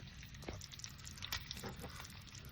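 Bacon fries on a camp stove outdoors, making a soft, steady sizzle with small crackles and pops. It sounds faint and close, with no voices.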